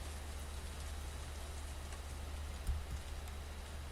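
Freezing rain falling on cold concrete outdoors, a steady faint hiss of drops with a low rumble underneath.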